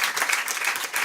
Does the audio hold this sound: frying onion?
no